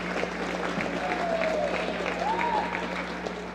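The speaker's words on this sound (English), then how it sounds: "let's give the parents one more final round of applause." Crowd at a high school boys basketball game applauding parents on Parents' Night, sustained clapping across the whole stretch with a faint whistle or tone drifting above it.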